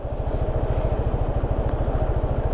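A motorcycle engine idles or cruises nearby with a steady, rapid pulsing throb along a flooded road in Puerto Princesa City, Palawan, with no talking.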